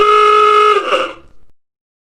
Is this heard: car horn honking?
yes